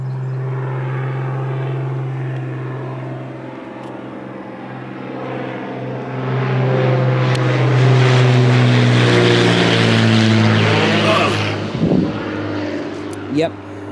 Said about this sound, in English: oh, there's a plane coming, I think.